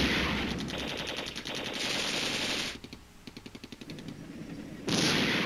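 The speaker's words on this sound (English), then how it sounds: "There's another shot." Rapid automatic machine-gun fire in the Flashpoint Campaigns: Red Storm war game, dense rattling bursts with an evenly pulsed stutter in the middle, loud and continuous throughout.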